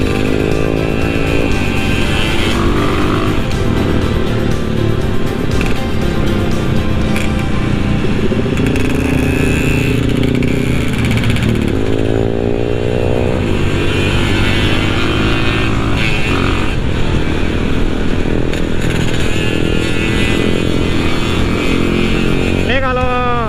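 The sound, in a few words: Honda GL100 motorcycle riding with throttle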